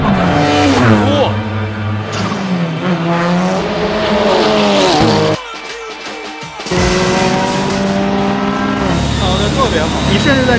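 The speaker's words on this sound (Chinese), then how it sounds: "350号赛车差点是撞到了第4组别的领跑赛车。" Race cars speeding around a circuit in close competition, their engines a loud, continuous whine whose pitch rises and falls through the gears, dipping briefly midway before surging back.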